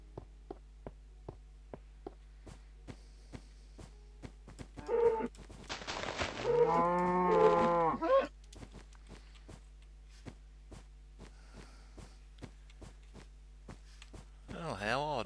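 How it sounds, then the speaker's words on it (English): A cow lowing once in a video game, a loud harmonic moo lasting a few seconds over a steady run of regular footsteps, with no other sound around it. "just not our lucky day for cows."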